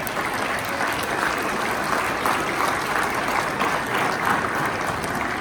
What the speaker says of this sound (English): So let's please give an applause to Jared Wright.